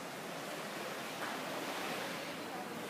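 Surf rolls in steadily just outside a beach villa at a Maldives resort, a broad wash of ocean noise with a gentle swell in the middle, mixed with light wind.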